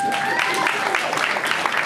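An audience at a stand-up comedy show claps in a brief burst, scattered hands mixed with a few voices, fairly close and steady for under two seconds.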